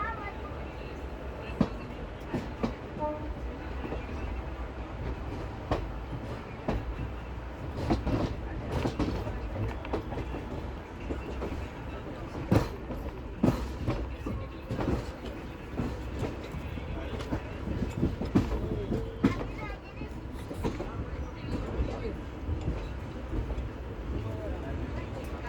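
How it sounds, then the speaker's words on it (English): Koyna Express passenger train rolling into Pune Junction, a rumbling rail drone with intermittent clacks and brake or coupling clanks, heard from on board under intermittent talk. "We pulled into Pune Junction for a scheduled halt at 12:55 p.m."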